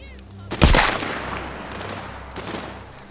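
A single sharp, loud gunshot rings out in the VR game The Walking Dead: Saints & Sinners, followed by a fading echo and a faint later clatter against a quiet background.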